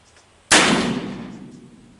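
A single loud shot from a Pietta 1858 Remington New Model Army black-powder revolver fired outdoors, an abrupt blast with a long, fading rumble afterward.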